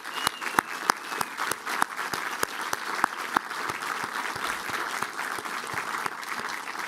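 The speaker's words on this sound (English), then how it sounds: "Once again, a round of applause for all of our finalists," Audience applause at the PEN/Hemingway Award celebration honoring finalists and nominees, a dense steady patter of many hands with a few sharper, closer claps standing out, sustained across the whole stretch.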